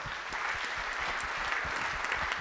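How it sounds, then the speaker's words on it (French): Steady applause from an audience at a CFO awards evening in a theatre, dense overlapping claps filling the whole stretch at an even, fairly loud level with no pauses. "On peut l'applaudir"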